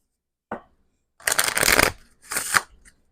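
Tarot cards being shuffled close up: a brief flick, then two dense riffling bursts of card edges, loud and dry with no talking.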